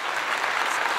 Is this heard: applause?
yes